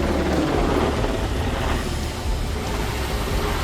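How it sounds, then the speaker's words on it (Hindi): Helicopters fighting a forest fire near Madrid, Spain, make a dense, continuous rotor and engine roar, loud and close, with no voices. "आसमान से हेलीकॉप्टर आग बुझाने की कोशिश में जुटे हैं"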